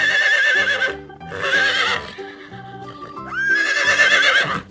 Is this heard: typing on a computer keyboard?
no